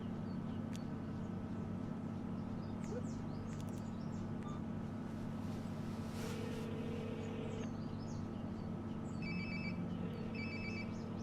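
A phone ringing close by in Life Is Strange: Before The Storm, short repeated electronic ring tones arriving late over a steady low background hum, no speech.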